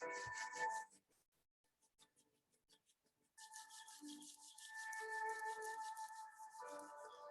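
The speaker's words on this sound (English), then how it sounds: "Let's now rub our hands together and feel the energy." Hands rubbing briskly together during a guided meditation, a dry swishing friction heard in two bursts with a quiet gap between, fairly close and steady, alongside faint background tones.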